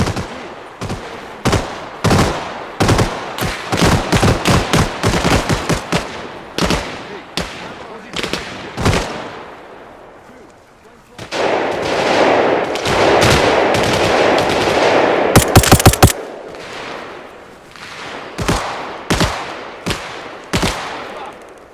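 Gunfire in ARMA Reforger during an AI airport assault: sharp, rapid shots and bursts crack repeatedly, swelling into a dense sustained volley before spaced shots resume, with occasional voices.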